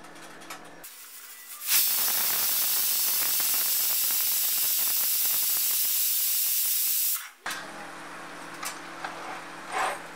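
A pressure cooker holding mutton kuzhambu releases a loud, sustained steam hiss for about six seconds, starting abruptly and cutting off sharply, with quieter kitchen sounds before and after.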